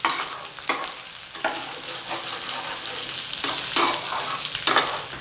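Tomato, onion and masala fry in a pan for a cashew fish curry, with a loud, steady sizzle and repeated bursts of stirring scrapes, close up and without talk.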